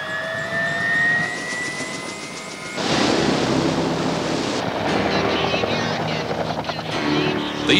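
A helicopter hovers above wildfire crews with a loud, continuous rotor and engine roar that swells partway through and carries steadily to the end, with no talk heard.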